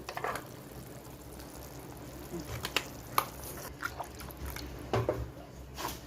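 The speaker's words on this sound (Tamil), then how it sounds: "இப்போ வந்து புளி நல்லா கொதிச்சு வந்துடுச்சு" Tamarind broth boiling in a pot for a Kongu-style fish curry, a soft bubbling simmer with occasional louder pops and spits, quiet and close.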